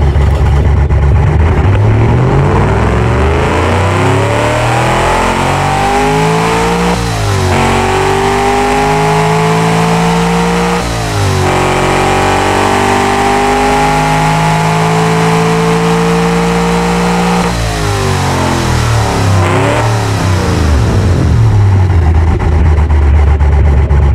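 Engine with two 4-barrel carburetors in Automation, 708 horsepower, revving loud and close in repeated rising sweeps, climbing in pitch, dropping back, then climbing again, with no talk over it.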